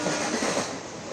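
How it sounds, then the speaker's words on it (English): An oxygen express train rolls along the rails toward Varanasi junction, a loud, continuous rumbling roar of wheels with no one speaking. "The train reaches Varanasi junction on its way to Bokaro"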